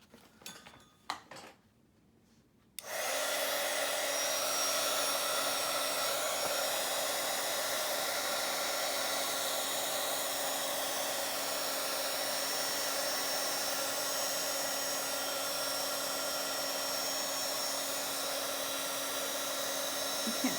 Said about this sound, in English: Let's emboss this or heat this up.